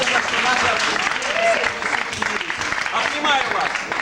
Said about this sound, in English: It's marvelous that our applause today has joined us together.